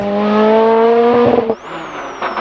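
A Clio R3 rally car races on a night stage of the 2007 Rallye du Mont-Blanc, its engine loud and near with a high, steady rev note that cuts off abruptly, followed by quieter mechanical noise.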